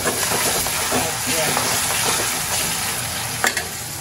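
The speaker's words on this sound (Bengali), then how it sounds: "তিল্লিটা ফার্স্টে ভেজে নিই।" Beef spleen coated with ginger, garlic and salt frying in oil, giving a loud continuous sizzle with stirring scrapes and a brief clatter near the end.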